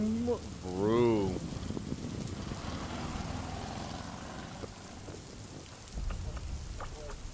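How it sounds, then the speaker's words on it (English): Steady rain pattering in a Silent Hill–style horror video game, with a low rumble of thunder, continuous and fairly loud throughout, while a voice speaks briefly near the start. "Just heard the weather forecast and it's already raining."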